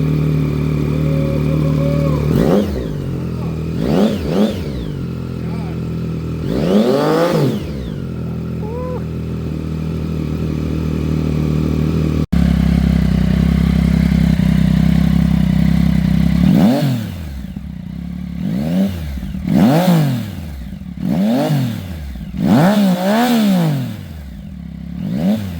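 A Yamaha XSR900 motorcycle fitted with a Yoshimura AT2 full exhaust revs in neutral. The engine snaps up through sharp, repeated throttle blips with rising and falling pitch, first spaced out, then a faster cluster of punchy revs close by.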